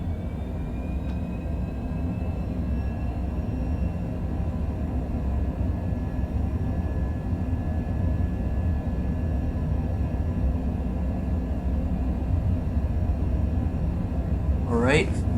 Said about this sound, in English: Bring the throttle up. Ready to go. All right, and full throttle.